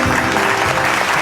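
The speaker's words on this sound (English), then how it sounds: "Can we have a warm round of applause, please?" Warm, dense applause from an awards ceremony audience fills a large hall, loud and unbroken for a brief moment.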